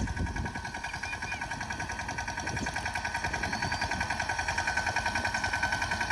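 A mini tractor with a makeshift pesticide sprayer setup runs steadily close by, its engine chugging in a fast, even rhythm with no talk.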